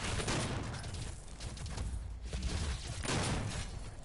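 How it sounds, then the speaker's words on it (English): Frag grenade blasts and shotgun fire in the DOOM beta on PS4 make heavy, booming bursts of gunfire that roll one into another, with loud thuds rising and falling over several seconds. "That was a frag grenade and shotguns."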